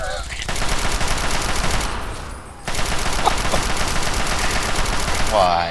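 Super mutant firing on the player in Fallout 3, a dense, steady burst of automatic gunfire that runs nearly the whole time, briefly easing before resuming at full loudness, with a few faint tonal blips near the end.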